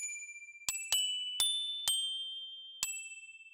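Sampled toy hammer bells from a 1938 children's toy strike five bright, ringing dings in an uneven rhythm, each chime sustaining and fading while the next one lands, close and clear with no other sound.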